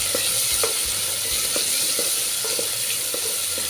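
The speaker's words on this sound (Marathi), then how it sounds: "आता ह्यामध्ये मी घालते कांदा मिक्स करून घेऊया" Onion sizzling and frying in a hot pan on a home stove, with steady hiss broken by regular scraping taps of a spoon as it is stirred, close and fairly loud, no talking.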